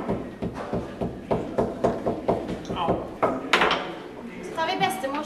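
Pieces of papyrus stalk being beaten at a papyrus workshop in Cairo: a steady series of dull knocks about every half second, close and moderately loud, with a person talking over them.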